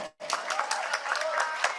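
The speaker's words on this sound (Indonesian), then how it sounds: "Tepuk tangan untuk Pak Menko" A crowd of village heads claps for the Coordinating Minister at the Indonesian agriculture minister's address: a dense, steady burst of applause that starts after a brief silence and fills the rest of the moment.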